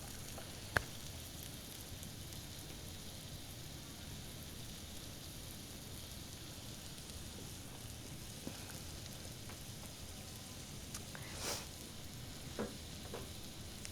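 Steak sizzling on a griddle gives a steady, faint hiss like light rain at close range, broken by a few small pops and crackles.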